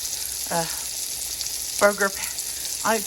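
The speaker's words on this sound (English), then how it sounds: "I made a hole in the middle so I can cook the egg in the middle. Kind of like in one-eyed Jack, but with meat, and I'm cooking it in butter" A burger patty with an egg cooked in a hole in its middle fries in butter, giving a steady close sizzle throughout, with a few brief voice fragments breaking in over the frying.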